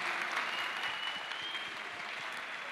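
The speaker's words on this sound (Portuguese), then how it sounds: "Salva de palmas" Applause from an audience at a Senac Rio summit talk on AI and work, a steady wash of clapping held at moderate level throughout with no voices over it.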